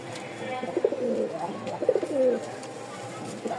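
Two close, throaty coos from a pair of racer pigeons rise and fall in quick succession, with a little background noise between them.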